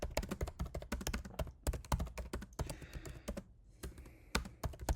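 Typing on a computer keyboard, with rapid, irregular key clicks that run steadily through the whole stretch, close and fairly crisp, with a few louder strokes and brief pauses between bursts.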